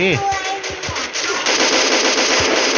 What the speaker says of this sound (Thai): ป้อมปืนก็ดีเหมือนกันนะครับ เนี่ย ช่วยเรายิงได้